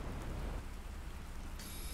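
Steady rain falls across a harsh alien landscape in the survival game The Planet Crafter, a soft, even hiss with low rumbling beneath and no talking.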